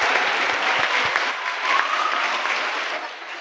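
A school audience claps loudly for a children's stage performance, a dense burst of applause from many hands that stays strong before easing slightly at the end.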